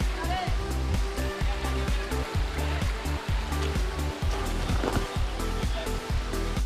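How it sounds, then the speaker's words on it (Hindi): Tungareshwar waterfall near Vasai, amid a forest hiking trail, roars as a loud, constant rush of falling water, with rumbling buffeting underneath and no clear voices. "वहाँ से झरना है जो आप लोग देख रहे हो"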